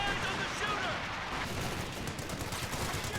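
Calliope rocket barrage in the World War II strategy game Company of Heroes 2, a continuous loud rumble of rapid launches and explosions filling the whole clip, with faint talk underneath.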